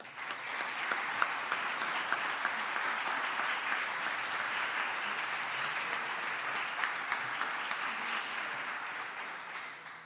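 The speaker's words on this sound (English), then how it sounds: "get a round of applause for everyone on Team Codman." Meeting audience gives a steady round of clapping, dense and even with a few sharper individual claps standing out, fading at the close.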